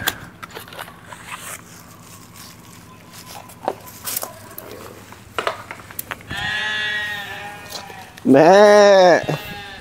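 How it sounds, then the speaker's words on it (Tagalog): Hungry sheep bleating on a farm, several wavering calls from about six seconds on, the last one loud and close, over a low steady hum with scattered knocks and clatter. "Mga gutom, mga tupa."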